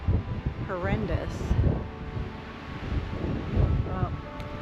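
Strong gusting wind in Alpine, Texas buffets the microphone with uneven roaring surges, and a person speaks over the blustery noise.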